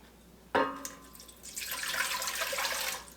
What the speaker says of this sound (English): I'm going to put in 287 grams of water